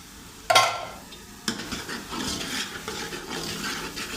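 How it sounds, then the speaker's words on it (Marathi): Spice masala with turmeric being roasted in a pan for dhaba-style whole masoor, with a sharp clatter at the start, another knock partway through, then a steady scraping stir and soft sizzle. "आता हे आपण सगळं छान असं भाजून घ्यायचं आहे याच्यामध्ये या मसाल्यामध्ये"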